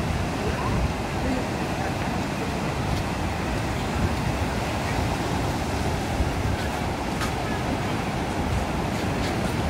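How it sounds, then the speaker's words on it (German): High ocean waves break onto a shore in a continuous loud roar, mixed with wind and a faint rumble of traffic in the background. "Damit ihr mal wirklich sehen könnt, wie hoch die Wellen da wirklich reinbrechen"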